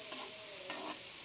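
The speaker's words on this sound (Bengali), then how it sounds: "তারপরে মাছ আর পেঁয়াজ একসাথে মিক্স করে" Hilsa fish and onions fry in a pan and are stirred together, a steady close hiss of sizzling oil with soft scraping movements underneath and no speech.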